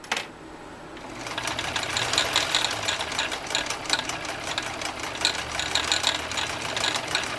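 A 1959 Kenmore 158.16410 sewing machine stitches through thick nylon webbing, starting after a short quiet second and then running as a steady, fast, close mechanical whirring clatter that continues on its own to the end.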